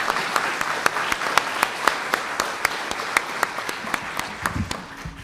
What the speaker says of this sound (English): Can give her a round of applause.